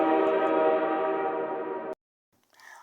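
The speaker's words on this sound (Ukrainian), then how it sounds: "А ось і наш потяг." A train horn sound effect blasts as a sustained, loud, harmonically rich tone for about two seconds and then stops abruptly, followed by a brief quieter sound.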